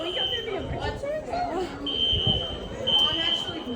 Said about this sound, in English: fire alarm is only going off